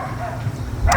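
Dogs bark and whimper briefly in a home setting, a short yip and whine rising near the end of the moment, with some background murmur.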